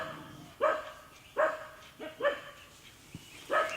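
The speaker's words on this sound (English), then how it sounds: "Well, they're always howling at something." Dogs bark and yelp in short, repeated calls, four or five bursts at fairly even intervals, moderately close, with a faint background and no talking.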